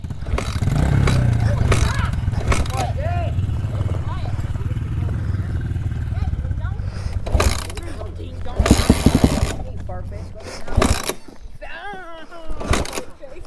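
Dirt bike engine running in a backyard, a steady throaty drone for several seconds that then fades to bursts and mechanical clatter, with people talking nearby throughout.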